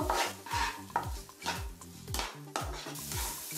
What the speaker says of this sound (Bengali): মুসুর ডালটা একটু কষে নেব।